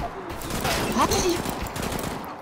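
Gunfire in CS:GO's Operation Broken Fang, a dense fusillade of rapid shots running through the whole moment at close range, with voices faintly present.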